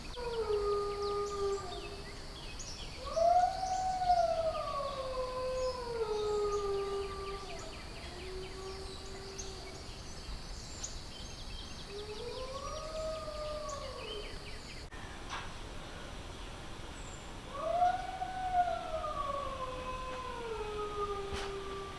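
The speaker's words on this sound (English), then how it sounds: "So I ended up recording the howls out on the porch, which I'll just show you right now." Wolves near an off-grid home in British Columbia howl from a distance, heard from a porch: long, wavering, overlapping howls that rise and fall, fade, then return after a pause.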